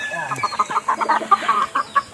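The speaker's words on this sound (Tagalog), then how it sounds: "samahan nyo ako at magpakain tayo ng aking mga lagang manok" Backyard chickens at feeding time cluck close by in a rapid series of short, busy calls, with faint background noise.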